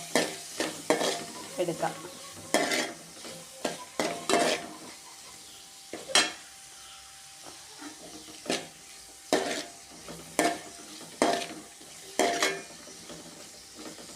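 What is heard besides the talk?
onions being sautéed with salt and turmeric in a pan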